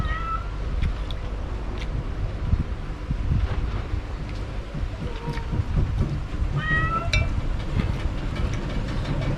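A cat meows several times outdoors, short rising cries near the start and again later, over steady wind rumble and low background noise.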